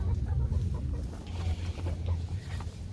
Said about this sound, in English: Ricky, that's my rooster, the one that we didn't realize was a rooster.